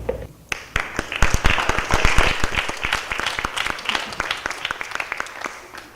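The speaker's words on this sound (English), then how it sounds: "Please give a round of applause for each team's recognition of their hard work." An audience applauds the debate teams at the close of a school debate. Dense, steady clapping rises quickly, stays loud and full for several seconds, then thins slightly toward the end, with no voices over it.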